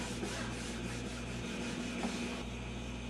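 A cloth rubs wax along the grain of a wooden Philco 60 radio cabinet, making a steady, close, continuous scrubbing sound with no pauses and no voices.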